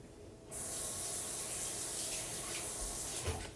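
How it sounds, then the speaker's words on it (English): A kitchen tap runs hard over a spoon being rinsed, a steady loud hiss of water starting abruptly and continuing with small splashing changes near the end. "Actually, I'm just going to rinse this spoon."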